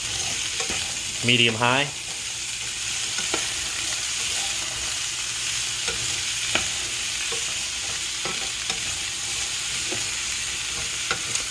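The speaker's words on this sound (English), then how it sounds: "Now I'm going to add a little bit of oil and then stir it up." Oil sizzling in a pan over medium-high heat as it is stirred, a steady bright hiss with occasional soft utensil taps and a brief spoken phrase near the start.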